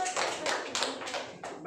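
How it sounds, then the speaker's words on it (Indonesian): A small group applauds at a classroom role-play training session, giving a brief burst of uneven hand clapping in a few loose waves at moderate distance, with speech mixed in. "kita beri tepuk tangan lagi"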